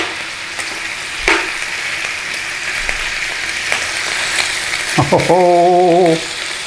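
Bacon frying in a pan for a full English breakfast alongside black pudding, a steady close sizzle throughout, with a sharp clatter near the start and a brief tonal warble toward the end.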